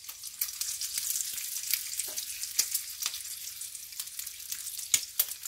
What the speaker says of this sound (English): So I'm going to use a little bit of the bacon grease.